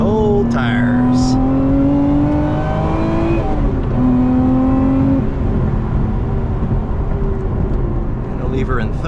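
A 2025 Lotus Emira V6 accelerates from inside the cabin, its engine note climbing steadily through rising pitch sweeps with a brief gear change partway through, loud and constant with a voice speaking over it.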